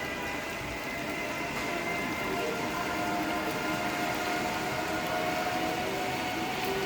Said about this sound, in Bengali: নিচে দিয়ে হচ্ছে অনেক গাড়ি যাইতেছে এর জন্য শব্দটা অনেক বেশি